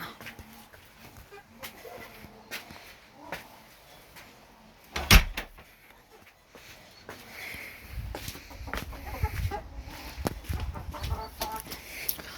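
Scattered clucks and soft pecking taps from young hens feeding close by on an October evening, with occasional knocks and rustling; low rumbling noise builds toward the end.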